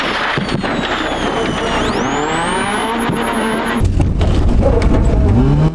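BMW rally car at the Pskov 2016 rally veering off the road into a field: loud, close engine roar with rough crashing and thumping over uneven ground, continuous throughout without speech.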